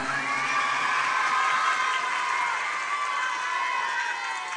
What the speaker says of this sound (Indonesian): Tepuk tangan anak-anak untuk Bupati kita yang keren.